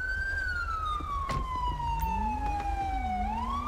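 Police car siren in the GTA V LSPDFR mod, a loud continuous wail sweeping slowly downward then rising again, with faint engine rumble beneath and no talking.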